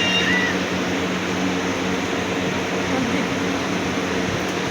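A household air cooler runs in a house, giving a constant, loud whooshing drone with a low steady hum underneath, unchanging from start to end, with no talking.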